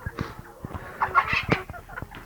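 Chickens and a speckled rooster cluck and squawk close by in a backyard flock, a busy run of short calls with a louder burst in the middle, with no talk over them.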